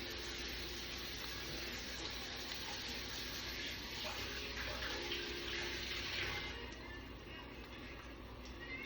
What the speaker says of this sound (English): I'm gonna wash this, but I'll come back and wash it, but I am soaking it